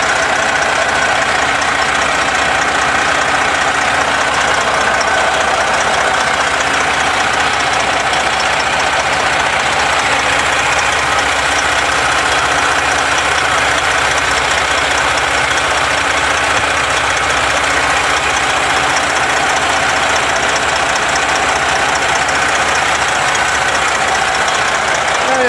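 A 2008 Freightliner Columbia truck's diesel engine idles steadily up close, a continuous rumbling drone with a knocking texture that holds at the same level throughout, with no talking.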